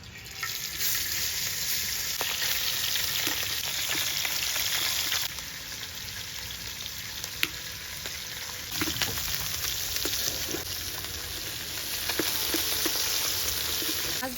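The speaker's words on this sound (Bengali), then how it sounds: "মাছ ভাজা হয়ে গেছে, এখন তুলে নেব" Fish fries in hot oil in a wok, a steady close sizzle and crackle running throughout with a few sharp pops and a brief dip in intensity midway.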